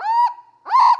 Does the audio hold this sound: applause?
no